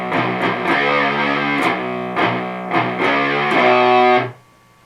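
An electric guitar with heavy distortion slowly plays a riff from a song, with chugging chords and sliding notes, loud and close, then stopping abruptly into near silence.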